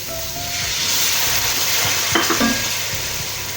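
Spices roasting in a pan for aloo shimla mirch sabzi, with a continuous hissing sizzle and a few sharp clinks of a spoon stirring near the end.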